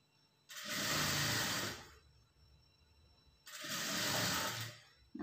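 A sewing machine stitching the folded lining of a blouse runs in two steady bursts of a couple of seconds each, separated by a quiet pause, close and fairly loud with no voices.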